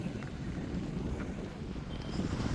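Evening wind blowing across the open Madayipara hilltop, a steady low buffeting rush against the microphone, moderately faint and continuous with no other clear sounds.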